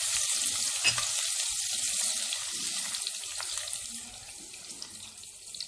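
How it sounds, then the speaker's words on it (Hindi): Ginger garlic paste in about half a cup of hot oil, cooking for chicken jalfrezi, giving a steady close sizzle with a continuous hiss and a few small pops throughout. "उसके अंदर हम अदरक लहसुन का पेस्ट डालेंगे।"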